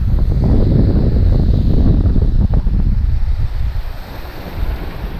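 A waterfall roars beside the water during bass fishing, a loud, constant rushing wash mixed with heavy wind buffeting on the microphone. It eases slightly toward the end, and no one speaks.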